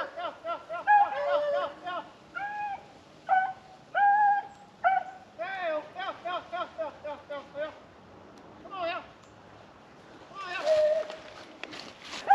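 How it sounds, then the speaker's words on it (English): Hunting dogs bark and yip in bursts while chasing a rabbit across a hillside, their cries coming in clusters at middle distance with pauses between. "So you can hear the dogs in the background."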